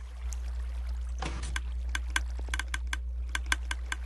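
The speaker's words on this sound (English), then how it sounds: "you hear those clicking? That's all the dispensers firing off." Minecraft dispensers firing off in a video game, a string of sharp, evenly spaced clicks following a brief rushing burst, heard over a steady low hum.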